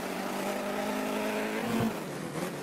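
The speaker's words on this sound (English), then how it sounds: "The rotary engine is just itching to go." A rotary-engined AvtoVaz 2104 race car idles and builds revs as it pulls out of the paddock at Brands Hatch in SLRR, a steady buzzing engine drone with a brief rise near the end.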